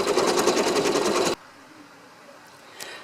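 An embroidery machine stitching a stippling pattern, a loud fast rhythmic needle chatter that runs for over a second and then stops abruptly, leaving faint room noise.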